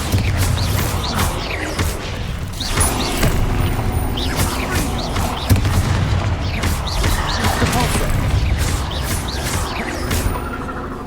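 Confringo and Bombarda spells exploding in Hogwarts Legacy combat, a rapid series of loud booms and crashing blasts repeating every second or so, punchy and close over a dense rumbling game soundscape.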